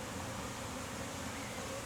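A honey bee swarm hums at a hive in a faint, even, continuous buzz that stays constant throughout the short stretch, with no voices.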